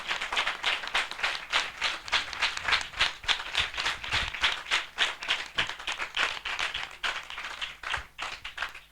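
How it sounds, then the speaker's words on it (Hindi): Loud, rapid applause from the congregation at a spiritual passion assembly, dense overlapping claps that pulse unevenly and keep going for the whole stretch, close and without any speech. "हम जोरदार तालियों से उनका स्वागत करें,"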